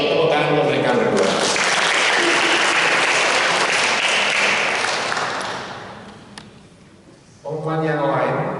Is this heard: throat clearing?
no